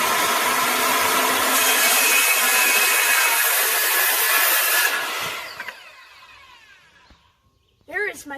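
A saw cuts through lumber for wall framing studs, a loud continuous rasping cut lasting about five seconds that winds down, followed by a few quiet bumps and handling noises.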